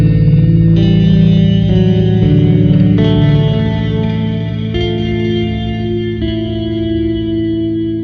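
Bass guitar played through a Nightverb reverb pedal on a randomly generated patch, sustained notes washing into a thick, modulated, echoing tail that fills the whole stretch loudly with no talk.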